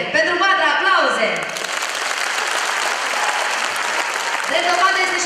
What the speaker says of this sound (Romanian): Pentru Vatra, aplauze!